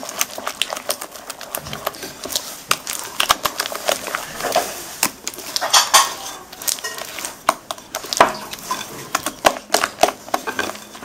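Eggs being mixed into cake batter for an orange délice, with irregular clinks and scrapes of a utensil against a bowl, fairly close and continuous, no talking.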